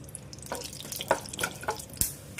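Mustard seeds, urad dal and cumin crackle and pop in a tablespoon of hot oil in a kadai, a quiet sizzle punctuated by irregular sharp spatters close by.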